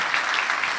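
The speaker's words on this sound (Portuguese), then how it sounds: "vamos dar uma salva de palmas" A church audience claps together in a brief, dense burst of applause, steady and fairly loud for under a second.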